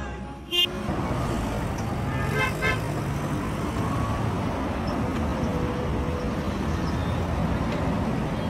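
Busy road traffic on Sapele Road in Benin City, Nigeria: a dense continuous rumble of passing vehicles with a sharp horn toot near the start and a few fainter honks later.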